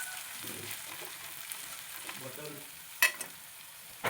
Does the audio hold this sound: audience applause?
no